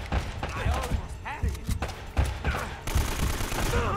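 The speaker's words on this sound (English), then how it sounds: "Come on, burst fire." AK rifle firing bursts in the Uncharted: Drake's Fortune shooter game, with rapid repeated gunshots among game effects. Voices from the game are heard over the shots.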